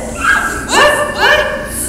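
Dog barking and whining in quick, close, fairly loud bursts, two rising yelps with a tonal whimpering quality over a steady background hum.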